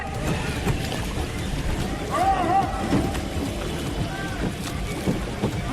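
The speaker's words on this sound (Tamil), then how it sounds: "கொடைக்கானல் நட்சத்திர ஏரியில் மிதிப்படகு போட்டி நடைபெற்றது" Pedal boats race on Kodaikanal's Star Lake, with a steady wash of water and wind noise carrying faint splashing and distant crowd voices, and a brief high whistle or call rising above it.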